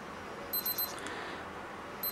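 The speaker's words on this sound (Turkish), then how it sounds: "Saat şu anda hem titreşip hem de bip sesi çıkarıyor." A few short electronic beeps from a Cookoo smartwatch in quick succession, faint and high-pitched, over a quiet background hiss, then another beep at the end.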